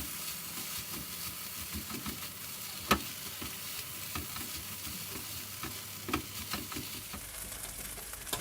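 Rice stir-fried with cooked eggs in a pan for sesame fried rice gives a steady low sizzle with scraping stir strokes, and two sharper clatters stand out partway through.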